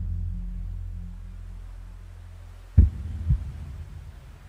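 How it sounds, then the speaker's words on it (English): A deep heartbeat sound effect in an Ave Maria performance, a low throbbing hum followed by two soft, booming thumps. "when he approaches mic, they go at heartbeat. So the effect he seems to like"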